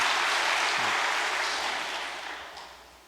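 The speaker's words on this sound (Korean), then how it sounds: "박수를 보내주시기 바랍니다." Audience applause at a Korean church rally, a loud wash of clapping that fades away over a few seconds.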